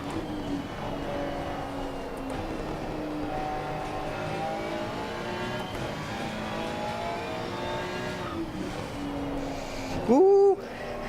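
Simulated race car engine at Watkins Glen in Assetto Corsa Competizione, a steady droning whine that rises and falls through gear changes, with a short sharp burst near the end.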